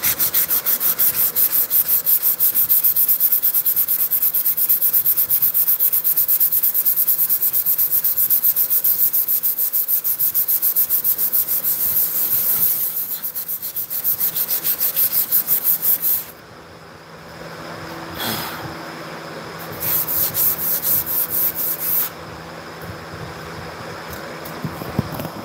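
Hand sanding of wood, a steady rough rubbing that carries on continuously, close and fairly loud, with a brief change in texture and pauses near the end.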